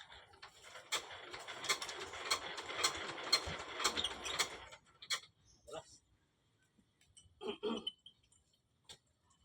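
Flood water pump engine at a flooded resort, cranked by handle, giving a rapid mechanical knocking that runs for a few seconds and then stops, followed by scattered clanks and a voice nearby.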